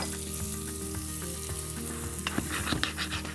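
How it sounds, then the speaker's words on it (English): Onions, garlic and cashews sizzle loudly in a single pan, a dense continuous fry hiss with steady low hum beneath and sharper crackles and pops building toward the end; no voices. "I'm gonna add the cashews next so they get a little bit of toast on them."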